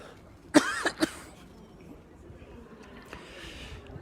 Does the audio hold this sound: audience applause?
no